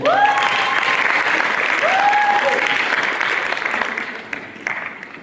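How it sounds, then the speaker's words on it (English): Audience applause in a hall, a broad round of clapping from many hands that builds quickly and then tapers, with a few brief voices and cheers rising over it near the start. "Please let's give a round of applause."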